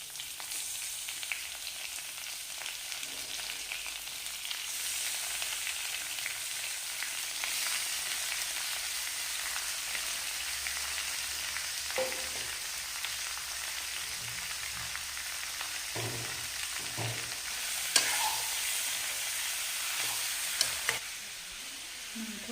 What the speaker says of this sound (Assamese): মাংসখিনি কম জুইত আপোনালোকে অলপমান সময় ভাজি থাকিব